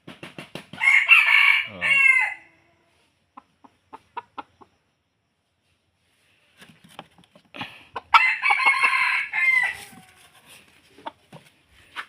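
Two loud rooster crows from decoy chickens kept for catching wild jungle fowl, each a long harmonic call, separated by scattered clucks and clicks, with a brief spoken exclamation nearby.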